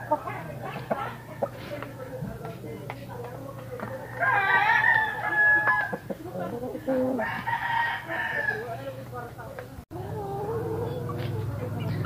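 Rhode Island Red and native chickens cluck and crow close by, with a strong rooster crow in the middle and further calls, over a steady low hum.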